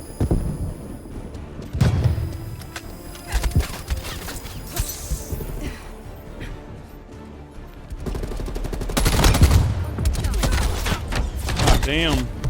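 Bursts of automatic submachine gun fire from a Call of Duty video game, rapid volleys and scattered shots at moderate loudness, with voices talking over the action.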